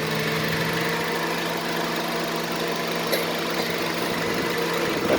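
A 2020 Honda Brio Satya E CVT engine idling: a smooth, steady mid-pitched hum with light vibration, heard up close and alone, with no voices.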